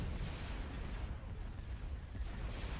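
Dense, continuous roar of starship laser cannon fire in the Thrawn's Revenge 3.1 space battle, a steady rumbling barrage with heavy low booms throughout and no clear gaps.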